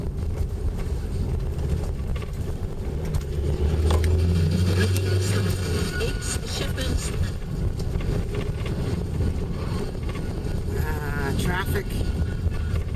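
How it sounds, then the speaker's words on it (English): Road traffic passing on a country road near sheep, a steady loud rumble and rush of vehicles with wind buffeting, a louder pass building in the middle, with brief talk over it. "Traffic."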